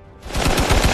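A sudden machine gun burst erupts after a quiet start, loud rapid repeated shots with no speech, part of a jungle ambush scene with Vietcong soldiers and a sniper.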